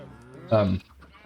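A single Minecraft sheep bleat, short and wavering, stands out loud and close for about a third of a second over a faint background in a farm game world.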